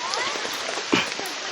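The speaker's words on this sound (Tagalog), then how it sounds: "Grabing lakas ng ulan dito sa amin, dito sa Tigi" Heavy rain pours down in Tigui, Philippines, during flooding, a dense, steady hiss with one brief, louder thud partway through.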